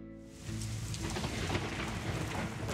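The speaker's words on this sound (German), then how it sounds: "Und es donnert." A thunderstorm rumbles with deep rolling thunder while heavy rain pours down steadily, the downpour swelling after a brief quieter start and staying loud throughout.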